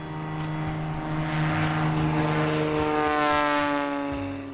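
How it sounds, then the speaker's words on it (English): A tailwheel airplane makes a short-field takeoff with 20 degrees of flaps, its propeller engine droning loud and steady with a pulsing beat, swelling slightly as power builds and then easing off near the end, with no voices. "For this takeoff, we're using 20 degrees of flaps and a 3-point attitude."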